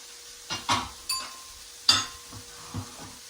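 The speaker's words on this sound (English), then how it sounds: "So I'm gonna stir this up a little bit more." Chicken marsala is stirred in a pan, heard as a handful of separate scraping and clinking strokes against the metal, fairly close and soft, without any talk.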